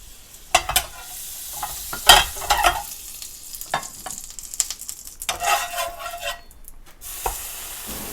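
Butter melting in a frying pan while making French toast, with scraping and stirring clatter, a few louder knocks and a soft sizzle running underneath, close and fairly loud, no talking.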